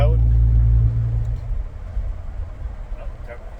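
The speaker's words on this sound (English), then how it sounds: "Kind of letting the noise play, if you know what I mean. the exhaust, right?" A black Ram Mega Cab pickup truck's exhaust gives a deep, loud rumble at first, then settles to a lower, quieter drone, with someone talking over it.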